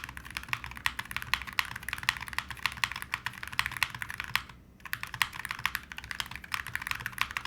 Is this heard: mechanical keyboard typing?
yes